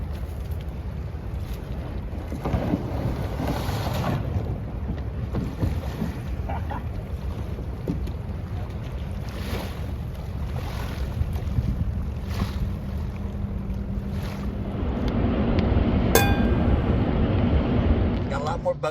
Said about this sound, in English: More boats out on the water today